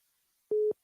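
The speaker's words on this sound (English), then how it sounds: "Let's jump to the phone lines here." A telephone line tone is heard as a radio sports talk show takes a caller. One short, steady electronic beep plays alone at moderate loudness.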